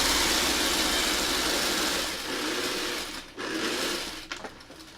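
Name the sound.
sewing machine stitching a Y seam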